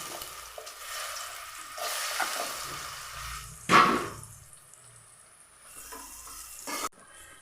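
Ripe bananas frying in ghee for a Malabar-style plantain payasam, a steady soft sizzle with stirring and utensil scrapes, one sharper burst midway and a clatter near the end, no voices.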